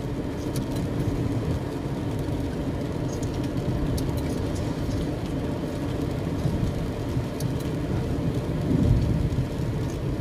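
Steady rain drums on a car, a dense constant patter over a low rumble of the moving vehicle, even and unbroken from start to end.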